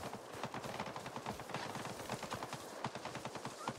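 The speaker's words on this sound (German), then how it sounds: "Oh, Schüsse." Rapid gunfire crackles in Avatar: Frontiers of Pandora in dense bursts, shot after shot at a steady, fairly loud level for the whole stretch.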